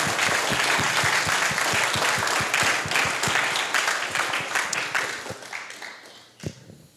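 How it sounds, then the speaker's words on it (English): Audience at a graduation gala applauding a keynote speaker, dense clapping that holds loudly for several seconds, then thins and fades out. "a big hand of applause for our keynote speaker"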